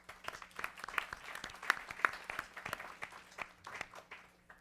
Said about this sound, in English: please give them all another round of applause